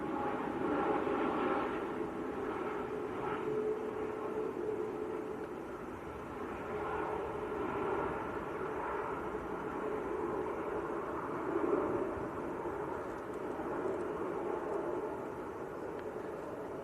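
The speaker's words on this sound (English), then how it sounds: "Emirates has left the hold and making its way in" Emirates airliner at Manchester Airport, a distant steady jet engine roar that swells and eases gently over many seconds, with faint ambient noise around it.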